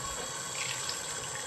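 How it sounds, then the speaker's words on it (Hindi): Tap water runs steadily into a kitchen sink during washing, a continuous close hiss and splash with no pauses and no speech. "अब देखिए पानी इस तरीके से डालें कि वो नीचे ना गिरे"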